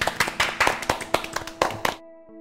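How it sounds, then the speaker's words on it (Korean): A small group applauds after an indie band interview. Brisk, distinct hand claps run for about two seconds and then stop abruptly. "박수."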